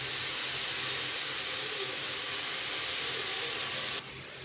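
Masala, tomatoes, coriander and mint sauté in hot oil for chicken biryani, a steady, close sizzling hiss that drops suddenly to a quieter level near the end.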